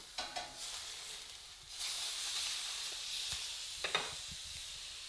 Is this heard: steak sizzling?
yes